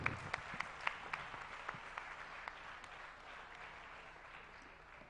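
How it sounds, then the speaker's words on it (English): Audience applause at a live event in a Bangalore hotel, opening with a few loud close claps and then settling into a softer, thinning patter of clapping that gradually fades. "Please, may we have a huge round of applause for Dr."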